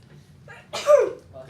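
A single sharp sneeze bursts out in a geometry classroom, short and fairly close, set against quiet room tone with faint voices around it.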